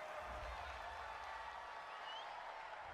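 A home crowd at a football game cheers a penalty call, a steady, distant roar of applause and crowd noise that stays level throughout, kept faint and low in the mix.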